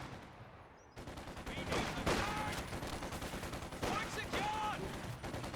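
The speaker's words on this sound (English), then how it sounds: "He's force firing the sandbags." Gunfire raking sandbags in the Company of Heroes 2 strategy game: a sustained, dense stream of rapid shots at steady volume after a sudden start, with a voice speaking over the battle.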